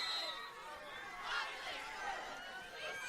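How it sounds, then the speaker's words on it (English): A home crowd at a high school football game cheering and calling out from the stands, a loud sustained roar of many voices heard at a distance with no single clear speaker. "You can hear Tanner's crowd"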